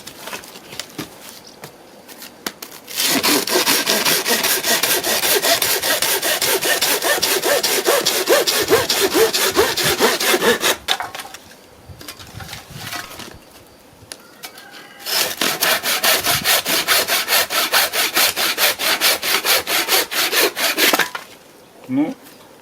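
A Dnipro-M hand saw cuts through a dry apple branch in two long, steady bursts of fast back-and-forth rasping strokes, close and loud, with a pause between them.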